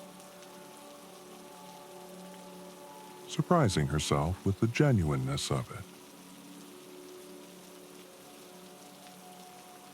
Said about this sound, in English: The rain continued its gentle percussion on the roof of her car.